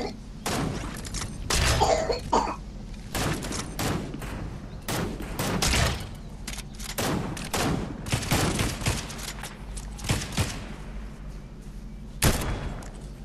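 Rapid gunfire bursts in Fortnite, loud repeated volleys and single shots cracking close by, with short pauses between exchanges and no clear talk over them.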